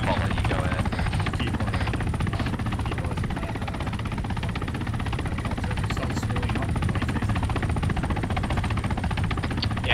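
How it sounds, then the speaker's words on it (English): An enemy attack helicopter thuds nearby in a combat game, its rotor chop and engine drone loud and constant throughout, with a person talking over it. "Eyes on another enemy attack helicopter in the next compound over."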